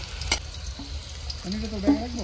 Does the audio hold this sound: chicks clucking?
no